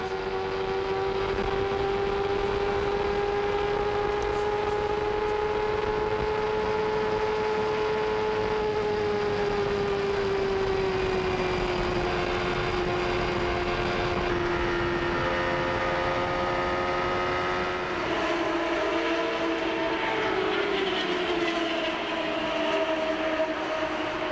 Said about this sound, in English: can hear the engines running